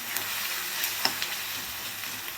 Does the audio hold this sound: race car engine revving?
no